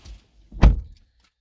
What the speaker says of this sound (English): Let's just open and close the door.